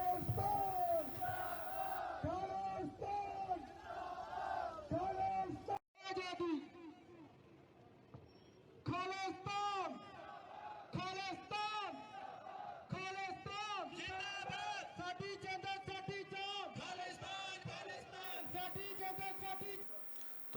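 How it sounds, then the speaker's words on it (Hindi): Crowd at the Golden Temple chanting pro-Khalistan slogans, many voices shouting in rhythmic bursts with a leader calling out and others answering, loud and sustained. "मंदिर में भीड़ ने खालिस्तान समर्थक के नारे भी"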